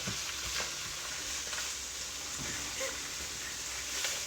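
Sliced onions and green chilies sauté in a pan with a soft, continuous sizzle, broken by faint scraping strokes as they are stirred, fairly quiet and close.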